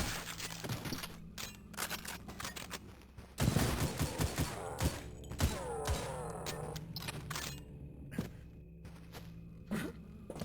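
Gunfire in the retro shooter Cultic, a burst of sharp, close shots and impacts with rattling game effects and footsteps, loud and irregular throughout without talk.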